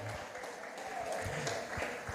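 Church congregation applauding during a Portuguese-language sermon, steady continuous clapping from a crowd filling the whole short moment.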